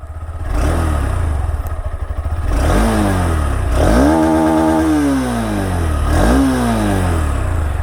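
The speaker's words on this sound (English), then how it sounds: "let me give just a bit of a throttle. Oh, that refinement, that pure sound" A Honda NX200 motorcycle engine idles, then revs up in several rising and falling throttle blips, loud and close.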